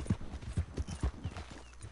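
Arabian horse hooves clip-clop in Red Dead Redemption 2, an even walking rhythm of low thudding steps, close and fairly quiet, with no voices.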